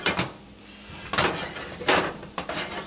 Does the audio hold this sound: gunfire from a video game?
no